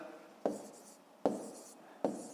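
Numbers are handwritten for long division, likely pen on paper, three short scratchy strokes spaced evenly and close up in a quiet room.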